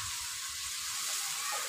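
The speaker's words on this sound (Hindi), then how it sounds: "अब हम प्याज को ब्राउन कर देंगे।" Onions browning in half a cup of hot oil, a steady broadband sizzle with soft bubbling underneath, continuous and close with no voices.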